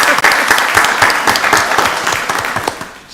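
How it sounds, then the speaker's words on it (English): Loud, dense applause from an audience at a county board of commissioners meeting, a close, continuous wash of many clapping hands that holds steady for a few seconds before easing slightly. "Let's give her a round of applause."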